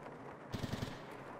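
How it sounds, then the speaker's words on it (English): Distant gunfire in the shooter game Escape From Tarkov, a short muffled burst of about four quick rapid shots heard faintly from two-story dorm buildings amid quiet ambience. "We have some gunfire in the 2-story dorms"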